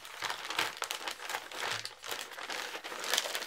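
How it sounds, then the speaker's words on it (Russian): A Sony RM-ED033 TV remote wrapped in film is packed into a postal envelope, giving continuous close crinkling and rustling of plastic and paper for a few seconds, with no talk. "После этого мы упаковываем пульт в почтовый конверт"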